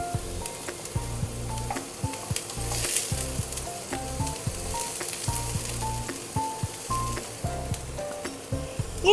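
Sliced onion, ginger and green chili fry in a pan with a loud, continuous sizzle and crackle, close up and with no voices over it.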